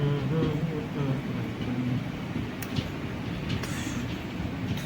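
A passenger train at Guruvayur railway station rumbles steadily with a low mechanical drone and occasional clanks, heard close by under intermittent talk.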